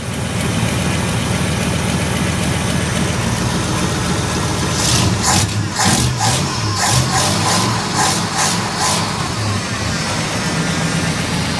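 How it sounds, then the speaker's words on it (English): A 1968 Ford XL engine idles with its power steering pump running, a loud, steady, close rumble with a constant whine, broken midway by a short run of sharp ticks or knocks. "I hear that power steering pump going."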